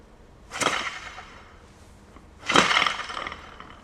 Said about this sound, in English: You can hear the rotation in the sleeves, just like an Eleiko bar